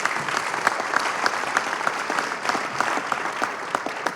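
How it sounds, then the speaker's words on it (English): An audience applauds steadily at a school announcement event, a continuous dense patter of many hands clapping at even loudness throughout. "So a round of applause for Scott Budnick as well."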